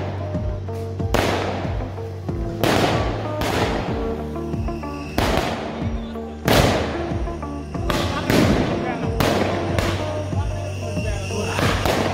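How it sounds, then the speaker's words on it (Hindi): Repeated loud welcoming fireworks bursts, about a dozen sharp booms and crackles in irregular succession, close by over a constant low hum of crowd noise. "बड़ी धूमधाम से आतिशबाजी के साथ हमारा स्वागत किया गया।"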